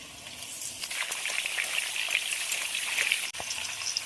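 Young jackfruit frying in a pan after potatoes, a bright, continuous sizzle with light stirring crackles, close and steady throughout.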